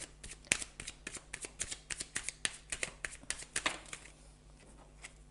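Tarot cards being shuffled close up during a reading, a dense run of crisp papery riffles and slaps in an uneven rhythm, thinning out toward the end with no talking.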